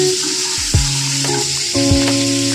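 Potatoes and eggs fry in oil in a pan with a steady, close sizzle and a few soft clinks of a utensil, with no talk.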